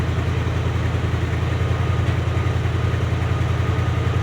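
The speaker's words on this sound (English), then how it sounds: "It's fucking idling by itself." A 1976 Ford F250 with a 390 V8 idles steadily on a cold start, a loud, continuous low engine rumble with an even pulsing rhythm and no talking.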